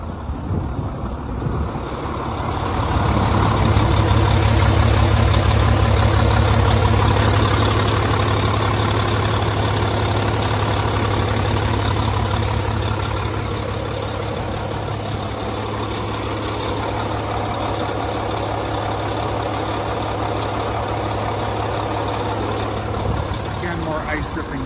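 A 2014 Volvo VNL64T300 day cab truck with a 13-speed manual idles in cold, icy weather. Its low, steady rumble swells for several seconds, then settles, while someone talks over it.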